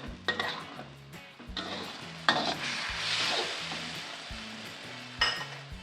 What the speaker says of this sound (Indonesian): ini kita tumis dulu ya sampai saus tiramnya matang